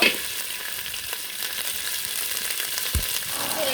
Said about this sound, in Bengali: মশলাগুলো কিন্তু প্রায় ভাজা হয়ে যাচ্ছে।